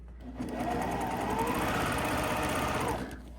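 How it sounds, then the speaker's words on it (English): Sewing machine stitching a zipper pouch, one continuous fast run of rapid needle clatter, close and steady for about three seconds before stopping. "So, really, it's a mindless sewing right now."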